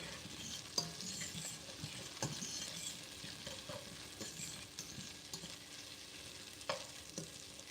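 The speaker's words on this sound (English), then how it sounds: "the fork was like scraping the bottom of the pan" A fork scrapes and stirs across the bottom of a frying pan while breakfast cooks, with faint sizzling underneath and a few sharper scrapes and taps standing out, fairly quiet and close.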